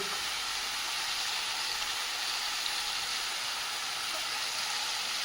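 Something sautés in ghee with salt and sugar, producing a steady, even sizzle and hiss throughout, moderately loud and without voices.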